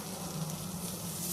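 Food sizzles steadily in a pan while being stirred, a soft, even frying hiss with no talk.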